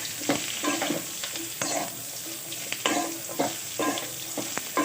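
Ridge gourd, green chili, garlic and curry leaves sauté in a pan for chutney, a close steady sizzle punctuated by regular scraping stirs of a spatula.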